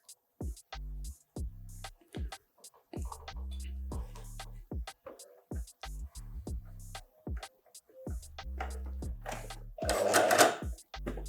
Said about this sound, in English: So the bloody machine isn't sewing.